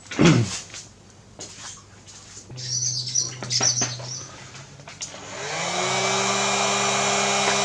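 Heat gun shrinking heat-shrink tubing over two joined wires, preceded by a few light handling clicks and a brief low hum, then the gun starts and settles into a steady, close blowing whir.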